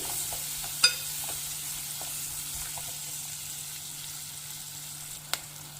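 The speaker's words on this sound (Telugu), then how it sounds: "ఇది ఉల్లిపాయ పచ్చిమిర్చి కొంచెం ట్రాన్స్పరెంట్ కావాలండి మంచిగా ఉంటుంది కొంచెం ఫ్రై లాగా అయితే బాగుంటుంది" Onion and green chillies frying in a pan give a steady, soft sizzle throughout, with a couple of sharp clicks near the start and end, and no voices.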